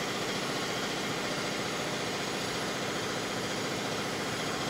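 CNC mill plunging an 8mm four-flute coated carbide end mill into a Ford 351 Cleveland 2V exhaust manifold, a constant dense machining whine and hum at steady loudness throughout.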